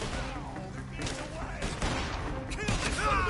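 Rapid bursts of gunfire in the Western video game Red Dead Redemption 2, crackling shots mixed with game music and shouting voices in a dense, busy soundscape.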